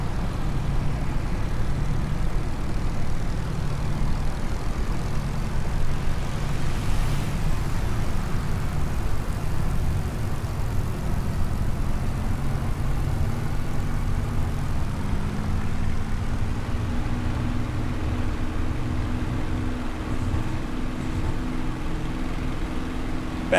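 Steady, loud propeller-aircraft engine drone in Microsoft Flight Simulator 2024 during a bouncy, crosswind takeoff on a VE Day commemorative flight, a continuous low rumble with a slowly rising tone that holds throughout.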